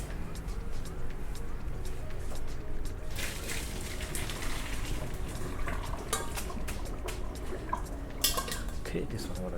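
Ramen noodles are stirred in a pot, with a steady wet churning hiss and scattered close clinks of a utensil against metal throughout.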